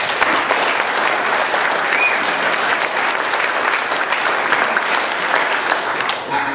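Sustained applause from an audience at a political event in District 10, a dense, steady clapping that fills the space for several seconds without a break.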